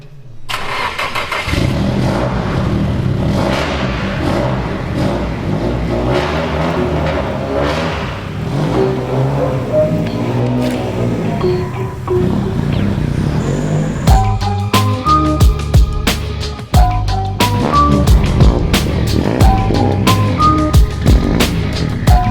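A Nissan 180SX engine starts and runs steadily, revving and changing pitch as it drives, loud and close with rattles and knocks partway through.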